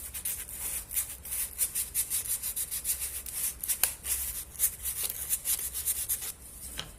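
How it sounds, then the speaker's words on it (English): Rough wood edges being hand-sanded after a cut, a steady scratchy rubbing repeated in quick back-and-forth strokes, close and fairly quiet with no talking. "And just sand down these rough edges."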